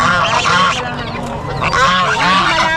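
Loud, repeated goose honks, several harsh calls in quick succession, close by with a busy background at a pet market in Baliwag.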